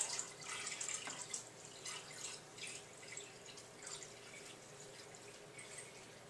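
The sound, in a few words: water being poured gently into a fish tank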